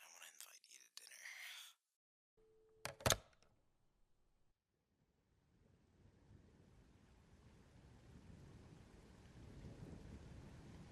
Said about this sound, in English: All this rain and thunder.